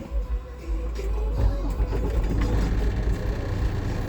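A truck's auxiliary power unit engine runs with a steady low, rumbling drone, close and continuous throughout with no talk.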